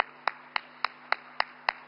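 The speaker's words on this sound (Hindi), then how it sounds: "आइए खड़े होकर जोरदार तालियों से माननीय प्रधानमंत्री जी का दिल से स्वागत करते हैं।" Clapping to welcome the Prime Minister at a public function in Sonamarg, Jammu and Kashmir, six sharp, evenly spaced claps in a slow steady rhythm over a faint constant electrical hum.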